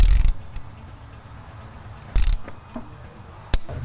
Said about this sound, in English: So we'll torque those off here in just a second.